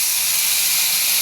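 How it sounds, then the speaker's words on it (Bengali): Spice paste for a small-fish curry sizzles loudly in a pan, a steady bright hiss that holds evenly throughout with no voices. "মশলাটা ভাজা হয়ে গেছে"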